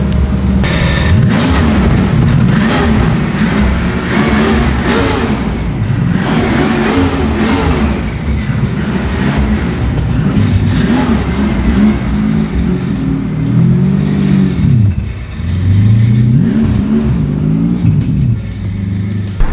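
Smokey Nagata's V12-swapped Toyota Supra roars loudly throughout a ride along, the engine revving up and down in repeated surges with steady road noise, no talking over it.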